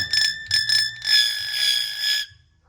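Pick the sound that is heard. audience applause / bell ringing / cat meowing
bell ringing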